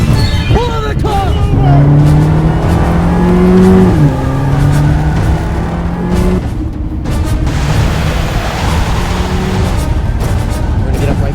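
A car pulls out and accelerates hard during a tense chase, its engine revving and rising in pitch over a continuous loud roar, with shouting voices over the engine throughout.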